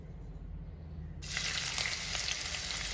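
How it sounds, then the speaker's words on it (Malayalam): Chopped ginger hits hot coconut oil in a pan and breaks into a sudden loud sizzle partway through, then keeps frying with a steady crackle after a quieter low hum at the start. "എണ്ണ ചൂടായി വന്നിട്ടുണ്ട് ഇതിലേക്ക് ഒരു വലിയ പീസ് ഇഞ്ചി അരിഞ്ഞെടുത്തത് നമുക്കിട്ട് കൊടുക്കാം"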